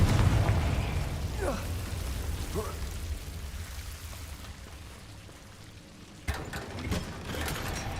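A Confringo fire spell explodes in the video game Hogwarts Legacy: one sharp, loud burst about two-thirds of the way through, rising over a steady rain-like hiss and low background rumble, with a few faint swooshing sweeps earlier.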